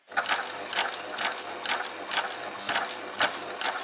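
Babylock Primo sewing machine running, its mechanism giving a steady run of rhythmic clicking, ratchet-like beats close by, about two per second.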